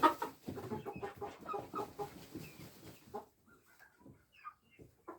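Chickens cluck repeatedly and close by, including young two-month-old birds, with a rapid run of overlapping clucks that thins into sparser, quieter calls toward the end.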